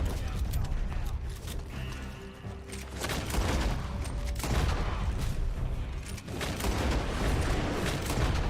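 Gunshots in Red Dead Online ring out as repeated loud reports in a wooded setting, in several bursts with short lulls between them and a busy game-sound background.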